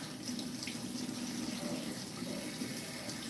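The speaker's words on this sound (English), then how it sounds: "I'm gonna just wash it out, wash it out." Water runs steadily from a tap at a barbershop sink as a client's hair is rinsed after a fade haircut, a constant close hiss with no talk.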